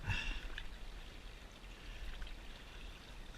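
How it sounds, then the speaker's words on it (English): A knife is rinsed in flowing outdoor water, a soft, continuous trickling and splashing with a slightly louder splash at the start, faint and without talk. "Wash it off in the water a little bit."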